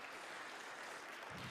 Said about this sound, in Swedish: ge Simon och ungdomen och alla en applåd